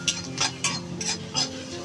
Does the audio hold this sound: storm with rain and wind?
no